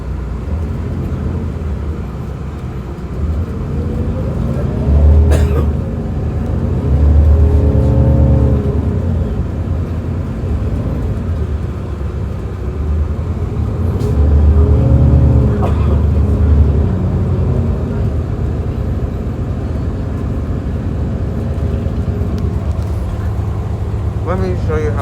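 Inside a Q70 SBS LaGuardia Link bus, the engine rumbles steadily through a full ride, swelling twice as it accelerates and easing between, with faint interior clatter and no talk over it.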